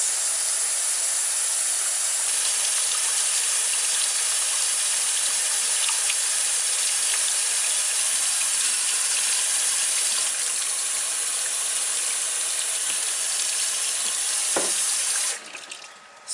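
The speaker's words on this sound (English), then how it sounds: "And I just run water on it continuously for 3 minutes." Steady hiss of tap water running continuously over a color film developing tank during the rinse step, constant and close for most of the clip before easing off at the end.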